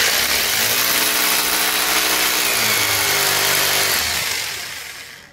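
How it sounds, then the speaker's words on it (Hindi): An electric drill bores a hole while an electric instant water geyser is being installed, running as one loud, steady whirring grind for about four seconds before it winds down and stops. "तो यहाँ पर हमको ड्रिल कर लेना है"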